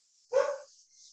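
A single short dog bark rings out once, faint and somewhat distant, against a quiet background.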